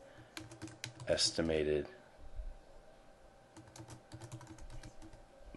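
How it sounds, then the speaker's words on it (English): Computer keyboard typing content into a spreadsheet, a scatter of light key clicks close by, with a short stretch of talk near the start before the tapping continues alone. "And now I can just type in content."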